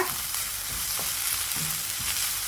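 Crushed garlic fries with softened onions in a hot pan, giving a steady, dense sizzle throughout, with faint stirring scrapes and no voices.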